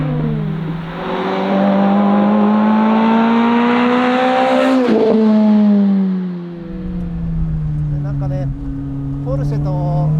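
A Lotus Elise R engine revs hard above 4000 rpm as the car climbs, a loud, steady, high-pitched drone that dips briefly and then keeps pulling, with a voice talking over it.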